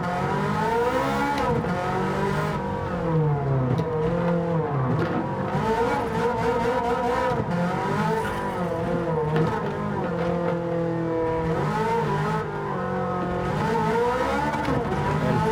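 A race car in Gran Turismo 7 is held at full throttle, its engine tone rising and falling through gear changes and brief lifts, loud and continuous with no talking throughout.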